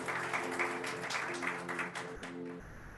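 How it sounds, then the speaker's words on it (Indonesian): A church congregation claps at a fifteenth anniversary worship celebration, with sustained keyboard-like tones underneath; the clapping stays steady for a few seconds, then thins out and fades near the end. "Tepuk tangan dong,"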